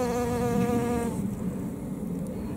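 Steady bee buzzing hums close by in a kitchen garden, a continuous droning tone that wavers slightly, with no talking.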